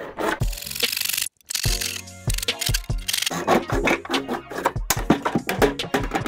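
A gutter downpipe is sawn by hand with rapid, loud, rhythmic rasping strokes up close, broken by one brief pause before the sawing resumes.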